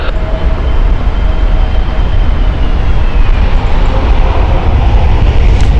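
A British Airways airliner on approach to Heathrow Airport makes a loud, close, continuous engine rumble that holds steady for several seconds, with no one speaking.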